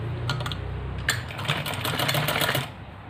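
Close and fairly loud, a sewing machine runs in a quick rattling burst of about two seconds while stitching a fabric strip onto a dupatta, with no talk over it.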